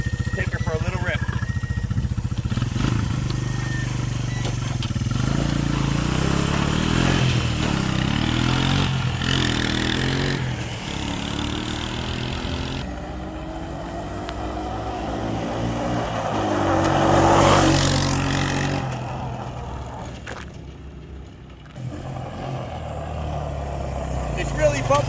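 A 1986 Honda ATC125M three-wheeler engine rises and falls in pitch as it is ridden, a buzzing motor that swells, fades into the distance and returns, with brief gaps of quieter idle.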